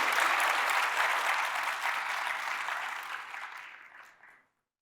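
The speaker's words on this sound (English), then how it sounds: "Let's show our appreciation with a round of applause." Applause from an audience thanking Professor Kajita at the close of a scientific meeting session, a dense steady clapping that gradually thins and fades out over about four seconds.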